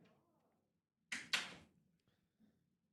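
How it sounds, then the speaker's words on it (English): A door pushed shut during a podcast recording, heard as two quick, loud thuds in close succession that fade in a short room tail, with quiet murmuring around them. "shut the door."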